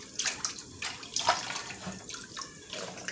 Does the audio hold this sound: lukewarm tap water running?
yes